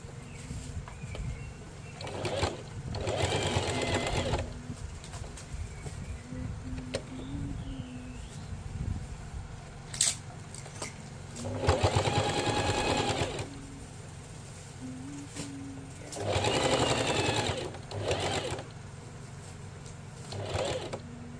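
A sewing machine stitches an inner pocket in loud bursts of a few seconds each, with quieter pauses between runs and faint background noise throughout.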